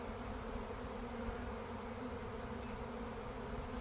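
A swarm of honey bees on a farm gives off a continuous, even buzzing drone, faint and steady throughout with no voices.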